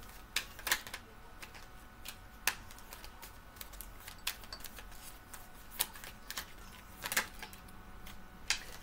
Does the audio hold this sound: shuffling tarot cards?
yes